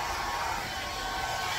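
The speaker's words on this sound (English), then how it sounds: "Some dogs don't even want this dryer," A dog grooming dryer blows steadily on a miniature poodle, a loud, even broadband whoosh with no pauses and no talking.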